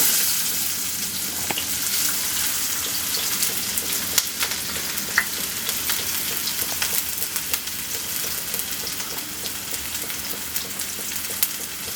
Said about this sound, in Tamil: இப்போ நம்ம வந்து இந்த வெங்காயத்தை ஃபுல்லாக போட்டு ரோஸ்ட்